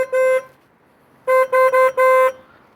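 Horn of a Harley-Davidson Iron 883 motorcycle, loud and close: one short honk, a pause, then a quick cluster of four blasts, the last held slightly longer.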